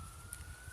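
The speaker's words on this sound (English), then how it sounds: "Ambulance coming." Passing ambulance siren heard outdoors beside an aquaponics setup, a faint steady high-pitched tone over low wind-like rumble, distant and brief.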